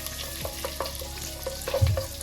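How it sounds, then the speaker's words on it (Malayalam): Garlic sautéing in oil and butter for chicken macaroni: soft, steady sizzling with light stirring scrapes and taps, close and fairly quiet, no talking. "നമ്മൾ ഓയിൽ വെച്ചു, ബട്ടർ ഇട്ടു, പിന്നെ വെളുത്തുള്ളി അതെല്ലാം കൂടി ഒന്ന് വെളുത്തുള്ളിൻ്റെ പച്ചമണം പോകുന്നവരെ വഴറ്റണം"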